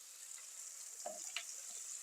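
Sliced peppers hitting hot oil with softened, lightly browned onions and potatoes for a home-style eggplant dish, giving a steady close sizzle with a brief burst of crackling as they land.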